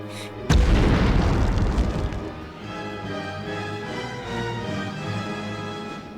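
A grenade detonates in the Medal of Honor war game with a sudden heavy boom, then a rumbling tail that fades under a steady game soundtrack.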